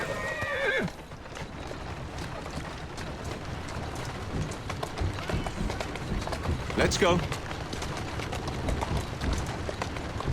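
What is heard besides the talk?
horse neighing and galloping in video game Assassin's Creed Syndicate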